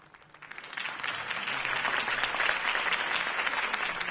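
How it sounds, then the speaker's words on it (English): Crowd applause fills a hall in a Batman video game, rising from a quiet start into steady, dense clapping that holds loud and continuous with no voices over it. "If only Mr. Wayne, my campaign's largest backer, could have heard that applause"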